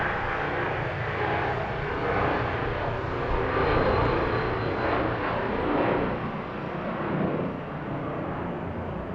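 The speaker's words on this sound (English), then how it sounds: "this is the FedEx 757-200 headed off to Memphis" A FedEx Boeing 757-200 jet departing Harrisburg at night bound for Memphis, a steady broad engine roar that swells slightly mid-clip and holds, heard from a distance with no voices.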